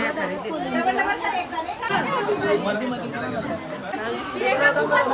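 A crowd of guests chatters at a village naming ceremony in Jabhulpada, with many overlapping voices forming a steady, moderately loud babble throughout.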